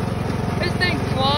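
A riding lawn mower's engine runs steadily nearby with a rough, pulsing drone, and someone talks over it.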